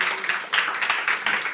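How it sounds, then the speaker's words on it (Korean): A church congregation claps together in a continuous, fairly distant round of applause, a soft even patter of many hands. "우리 주님께 영광의 박수를 드리겠습니다."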